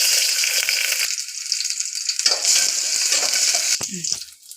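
Small onions sautéing in a little oil in a dry pan for beetroot sambar crackle and sizzle up close in uneven bursts, with a few stirring knocks and rattles before it fades.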